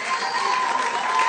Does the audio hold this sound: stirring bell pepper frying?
no